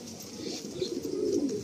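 A Madrasi or Malwai pigeon coos in a low, continuous murmur close by, steady and unbroken through the short stretch.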